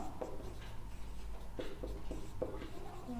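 Pen strokes on paper while a maths solution is written out, a few soft scratchy marks at uneven intervals, faint and close under a low room hum.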